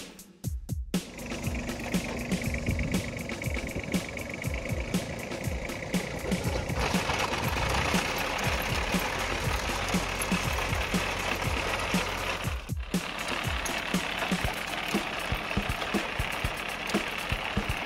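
Kyuho digger prototype running over stony ground, its conveyor turning with a loud, steady mechanical clatter and rattling knocks, nearby and continuous for the whole stretch, with no speech.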